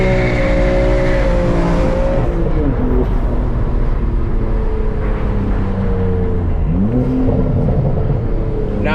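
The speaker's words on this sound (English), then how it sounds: "the car gonna start to modulate side to side" A manual BMW M3 engine drones loud and close as the car drifts side to side on a road, its pitch dipping and climbing with each throttle shift under constant road roar.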